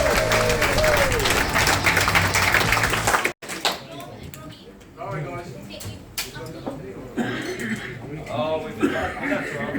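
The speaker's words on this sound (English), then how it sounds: "Great applause, everyone." An audience applauds at a televised town show in Charters Towers, broad clapping with music underneath, then a sharp cut to softer room sound with scattered claps and chuckles.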